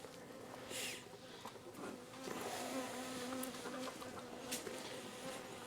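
Honey bees buzzing around a hive on a farm, a faint steady hum of many insects with a few closer passes swelling briefly.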